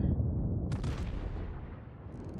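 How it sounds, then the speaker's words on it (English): Battleship main guns fire in the naval combat game World of Warships, a heavy booming blast with a long rumbling decay, loud and alone. "I'm being engaged by more than my fair share of battleships over there."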